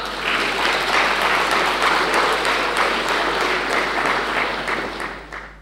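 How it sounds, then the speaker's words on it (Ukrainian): An audience in a hall applauds winners at a sports awards ceremony, a sustained dense clapping that holds steady and then thins toward the end. "Тож поаплодуйте нашим героям."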